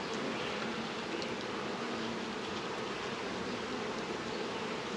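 Honey bees swarm around an open hive, a thick, steady buzzing hum close by that fills the whole moment without a break and with no voices.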